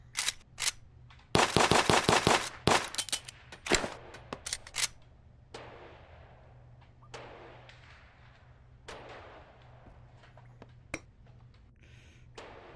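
Walther gunshots in the Gun Club VR video game, a rapid burst of sharp cracks followed by scattered single shots with gaps between, loud and close.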